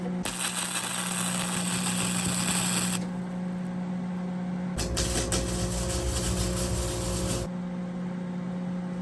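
Flux-core wire MIG welder running on metal that is not perfectly clean, giving a steady, popping crackle that shifts in tone partway through, close and continuous.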